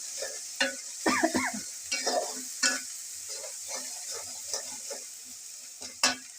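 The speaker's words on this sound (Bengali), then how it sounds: "এই যে মশলা সব কষিয়ে নিচ্ছি।" Spices being sautéed and fried in a pan, with a steady soft sizzle under repeated scraping and stirring strokes of a spoon against the pan, close and moderately quiet.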